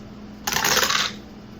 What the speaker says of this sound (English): So we're going to take 4 dice and we're going to roll those.